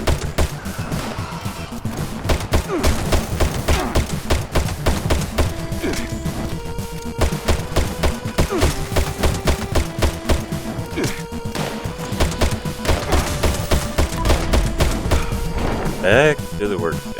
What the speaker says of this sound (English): Now you can watch me shoot like a generic Star Trooper.